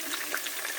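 Onions frying in a pan for a chicken stew, a bright, even hiss of sizzling oil that holds steady throughout, close and moderately loud, with no talking.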